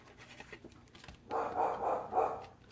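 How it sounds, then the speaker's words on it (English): A pet dog barks three times in quick succession, somewhat muffled, as if from another room, in a quiet indoor space. "Sorry, my dog's barking."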